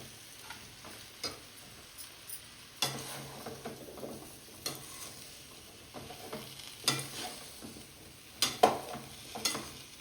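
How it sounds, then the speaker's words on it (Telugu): A spoon scrapes and stirs a sizzling pan of capsicum, potato and lady's finger curry coated in masala, with irregular clattering strokes over a soft frying hiss and no talking. "బాగా కలుపుకోవాలండి, మసాలా అంతా బాగా పట్టేటట్టు"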